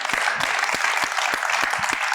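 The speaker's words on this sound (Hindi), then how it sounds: "बहुत सारी तालियां" Studio audience applauding a guest on a talk show, a dense steady wash of clapping with a few sharper individual claps standing out, loud and continuous throughout.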